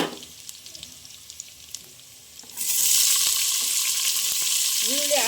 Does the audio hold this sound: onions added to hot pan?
yes